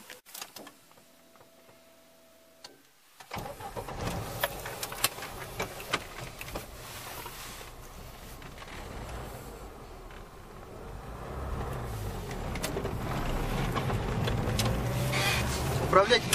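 Near silence for a few seconds, then a Lada 4x4 engine starts and runs steadily, its rumble and road noise building as the vehicle drives off.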